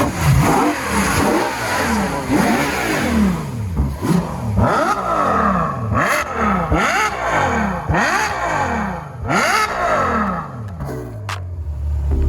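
A high-revving Ferrari FF V12 engine is blipped repeatedly in quick rising wails, each falling away before the next, loud and close, ending in a low idle.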